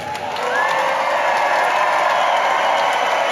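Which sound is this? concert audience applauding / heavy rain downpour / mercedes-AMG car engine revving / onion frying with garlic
concert audience applauding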